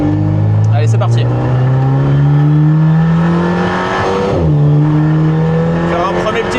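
Alpine A110 Schirmer GT engine pulls hard from inside the car on a warm-up lap, the loud tone rising through the gears with a quick shift dip midway, under a voice talking.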